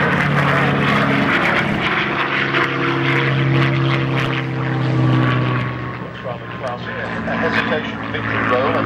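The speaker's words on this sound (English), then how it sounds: "the absolutely lovely Dragon Spitfire. So he's now just called downwind" Supermarine Spitfire (the Dragon Spitfire) at a flying display, its piston engine a loud, sustained drone with shifting pitch as it passes, talk running alongside throughout.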